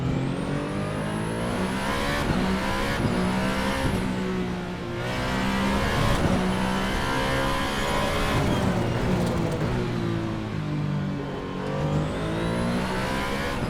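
Alpine A424 race car in the Assetto Corsa game launches and accelerates hard, its engine howling loud and close through rising gear sweeps, with brief dips at each shift and no talk.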